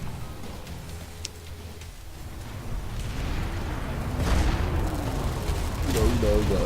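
Gunfire and explosions crackle and boom in the Planetside 2 video game, a continuous muffled battle din of shots and blasts at moderate level with no clear voices.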